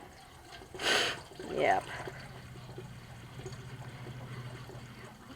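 Water pours briefly in two short gushes into a 5-gallon bucket near the start, then a low steady hum fills the rest, with a quick spoken word nearby.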